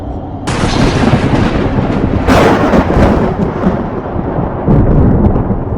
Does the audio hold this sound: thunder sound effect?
yes